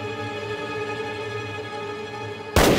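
A single sharp gunshot bursts out loud and close near the end, cutting through a steady low ambient drone, in a wartime drama scene set in deep mountains during the anti-Japanese war.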